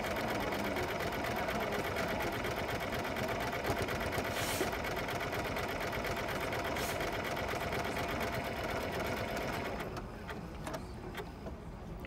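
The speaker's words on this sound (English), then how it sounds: "Just a smooth running, quiet machine." A Janome Continental M7 Professional sewing machine stitches a buttonhole with a steady, smooth, quiet motor whir and rapid needle rhythm for about ten seconds, then slows to a stop, leaving light mechanical ticks.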